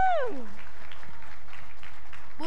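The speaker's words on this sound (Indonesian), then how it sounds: "tepuk tangan sekali lagi untuk adik-adik" An audience claps steadily for children at a school health launch event, a dense continuous applause that follows a brief voice at the very start.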